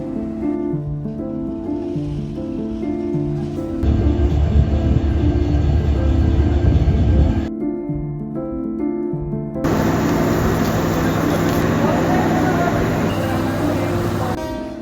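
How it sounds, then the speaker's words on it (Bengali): Trains and a crowd at Kamalapur railway station in Dhaka: loud, continuous rail and engine rumble with shifting mechanical tones and a high whistle-like hiss, dense station din throughout. "রাজধানী ঢাকার কমলাপুর রেল স্টেশনে প্রতি বছর এই দৃশ্য খুবই সাধারণ হয়ে গেছে"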